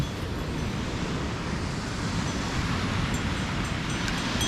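Continuous broad roar of surf breaking on Kolthare Beach, Dapoli, on the Konkan coast, with wind rumbling across the microphone and no voices.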